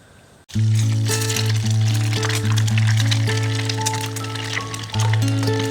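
Eggs fry in a pan for breakfast at a hunting camp, giving a steady close crackle and sizzle under a loud, constant low droning hum.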